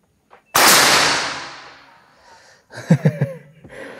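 A single sharp, loud shot from a Monel Phantom PCP air rifle with a long fading ring, followed moments later by a few quick mechanical clicks nearby.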